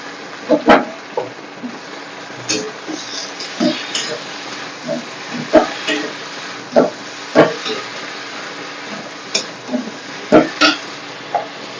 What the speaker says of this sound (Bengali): কাঁকড়াটাকে আমার ভাজা হয়ে গেছে এবার আমি এর মধ্যে বাঁধাকপিটাকে দিয়ে দেবো